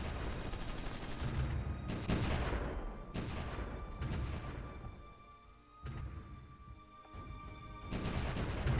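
Artillery fires in a strategy war game, a series of loud booming shots with heavy rumbling decay, repeating every second or so over a steady background of battle noise.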